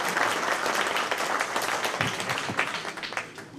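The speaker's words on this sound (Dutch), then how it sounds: "Een applaus, dames en heren, voor Toon van Meulen." A debate audience at a municipal candidates' event in Bladel applauds steadily, dense clapping from many hands filling the room for several seconds with no speech.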